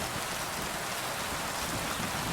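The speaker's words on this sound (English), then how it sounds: "I'm inside the woods now and it's raining" Rain patters steadily onto leaves in the woods in the video game Kingdom Come: Deliverance 2, a dense, even wash of drops with no talking over it.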